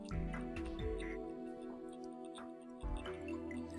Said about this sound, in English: I just had to make sure you could hear the Wii Remote noises